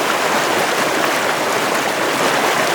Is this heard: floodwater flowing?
yes